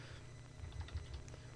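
Keys tapped on a computer keyboard while testing a UK English layout during a Linux Ubuntu 11.10 installation, a short run of soft, irregular clicks heard close up but faint over a low background hum.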